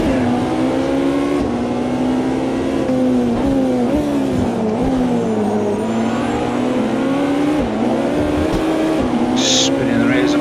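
A racing car in the Automobilista 2 video game, engine revving hard as the rear wheels spin up, a loud continuous drone with rising and falling pitch, a voice talking over it.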